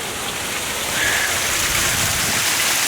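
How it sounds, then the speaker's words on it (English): Diversion water pours out at a fish harvest site, a steady, loud, dense rush and splash that holds constant throughout with no voices. "Diversion water coming out and dump it back in."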